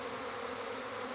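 A secondary honeybee swarm with a single queen buzzes steadily around a beekeeper, a dense continuous hum of many bees close by with no voices.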